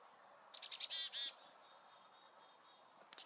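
A chickadee beside a stream gives a quick run of bright, rising notes followed by two longer whistled calls, faint over steady water hiss. A few sharp clicks come near the end.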